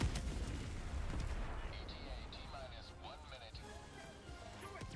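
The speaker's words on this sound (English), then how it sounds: "Artillería enemigo." Enemy artillery fire in a video game airstrike, heavy rumbling booms and crackling blasts throughout, with someone talking over the barrage.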